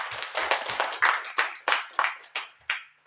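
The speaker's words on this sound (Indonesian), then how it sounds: "Kita kasih aplaus buat Bu Konita" Audience applause at a teachers' training session in Klaten, Indonesia: about nine sharp, separate hand claps in a steady, fairly quick rhythm, close and clear with no talk over them.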